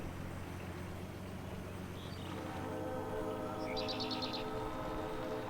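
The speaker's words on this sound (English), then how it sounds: "I hear that train all the time." A train passes near a forest homestead, a steady distant rumble and rolling hum with faint chirping birds and a few short high calls over it.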